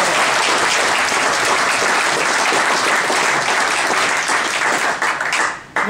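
An audience at a lunch gathering breaks into loud, sustained clapping, dense and even throughout, before stopping abruptly at the end.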